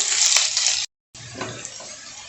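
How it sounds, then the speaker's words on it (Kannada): Small cut green chillies fry in a pan of hot oil, giving a loud, steady, hissing sizzle that cuts out briefly, then resumes slightly softer. "ಇದನ್ನೆಲ್ಲ ಹಾಕಿ ಲೈಟ್ ಗೋಲ್ಡನ್ ಬ್ರೌನ್ ಬರಬೇಕು, ಅಲ್ಲಿ ಗಂಟ ಫ್ರೈ ಮಾಡ್ಕೊಳ್ಳಿ."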